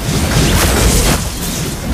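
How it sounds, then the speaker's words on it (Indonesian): A heavy booming blast fills the moment a turret is destroyed in the Mobile Legends mobile game, a loud dense rumble sustained for about a second before easing into a lower roar. "Your team destroyed a turret."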